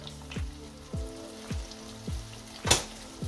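Dough fries in hot oil for Transylvanian fried bread, giving a close, steady sizzle with crackling pops and one louder spatter near the end.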